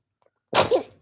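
A single sharp sneeze bursts out close and loud after a moment of silence, with nothing else heard around it.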